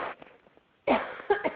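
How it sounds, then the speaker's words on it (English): A person coughs in a short burst, starting with one loud harsh cough, then two further sharp coughs, heard close up after a stretch of faint murmuring. "I'm going to start coughing"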